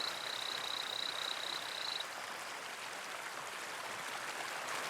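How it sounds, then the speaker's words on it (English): A torrent frog calls beside a waterfall in the Atlantic rain forest. A thin, rapid series of high peeps lasts about two seconds over the steady, loud roar of rushing water. "Like most frogs, he calls out to attract a mate."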